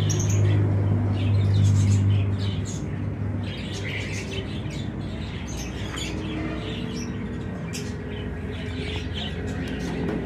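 Wild pigeons coo in a low, steady tone, loudest early on, beneath a busy layer of small birds chirping and twittering nearby.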